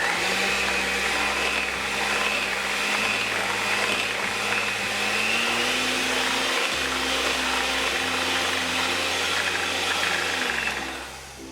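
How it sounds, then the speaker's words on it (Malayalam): An electric mixer whips cream with condensed milk for papaya ice cream. It makes a loud, steady motor whine, and the pitch shifts in steps as the beaters work the mixture. The whirring stays on without a break and then drops away at the end. "ഇനി ഇതിലേക്ക് ഈ എടുത്തു വെച്ചിരിക്കുന്ന കണ്ടൻസ്ഡ് മിൽക്ക് ഒഴിച്ച് നല്ലതുപോലെ ഒന്നും കൂടി ഇത് വിപ്പ് ചെയ്തെടുക്കാം"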